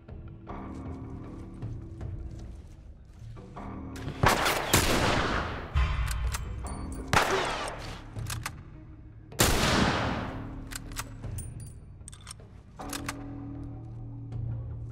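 Gunfire in The Last of Us Remastered on PS4: several loud, sharp shots ring out at irregular intervals, with quieter mechanical clicks and low game ambience in between.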